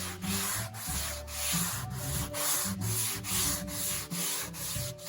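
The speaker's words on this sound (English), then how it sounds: "For the most part, I'm handling this with just a sanding block, and that actually takes it down quite well" Hand sanding block rubbing back a painted ring rail on a model railway turntable, a steady rhythmic scrape of back-and-forth strokes, close and continuous with no talk.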